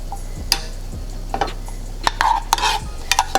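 Butter cooks down in a pan for a shrimp and crab bake, with a soft sizzle under repeated utensil scrapes and light clinks against the pan, close and fairly quiet.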